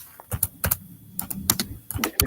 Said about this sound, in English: over here typing